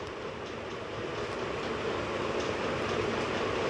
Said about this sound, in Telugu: అదిగోండి గైస్, ట్రైన్ వెళ్తుంది.